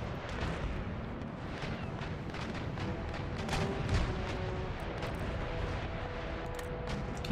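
Naval cannons aboard sailing warships fire chain shot in a large Empire: Total War sea battle, a dense continuous barrage of deep booms and cracks rolling together, loud and unbroken with no voices.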